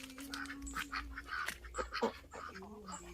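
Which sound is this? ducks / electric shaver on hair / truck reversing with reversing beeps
ducks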